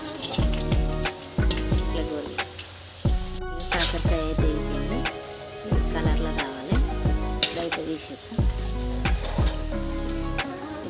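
Bitter gourd pieces fry in hot oil for a Telangana-style pickle, sizzling steadily while a spoon stirs them with repeated scraping strokes, loud and close.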